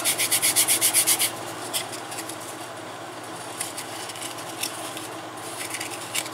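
Fine 400-grit sandpaper rubbed over a leather knife sheath, beginning with a quick run of even, rhythmic strokes and then settling into quieter, steady scraping up close.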